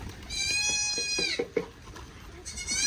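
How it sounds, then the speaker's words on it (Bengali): A young goat kid on a farm bleats in two loud, wavering cries close by, separated by a short gap filled with light knocks and soft background noise. "ছাগল ছানাটা ডাকতেছে অনেক।"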